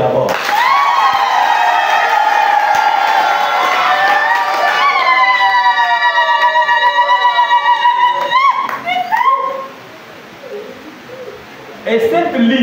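A church congregation at a New Year's Day celebration at a university parish in Kabinda claps and cheers loudly, with high ululating voices on top. The crowd noise fades to near quiet before picking up again at the end.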